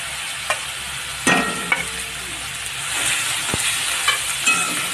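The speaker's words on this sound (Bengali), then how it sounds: "এটা একটু নাড়াচাড়া করে নিয়ে খুব বেশি ভাজবো না" Onion frying in a pan with cumin paste and green chili for a home-style singhi fish curry, stirred with a spatula: steady sizzle with a few scraping clicks and clunks, close and moderate, no talking.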